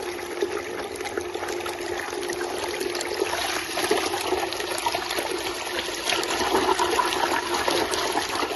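SHYSKY 24V 120W speed-adjustable micro brushless DC water pump (DC60D-24120A) pumping water, a steady close rushing, trickling flow of liquid that holds constant throughout with slight swells, no talking.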